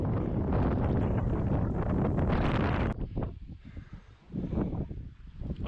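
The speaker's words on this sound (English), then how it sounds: "And it is windy." Strong wind buffets the microphone on an exposed mountain trail of the Quilotoa Loop in Ecuador, a loud continuous roar for about three seconds that then drops to gusty, uneven rumbles.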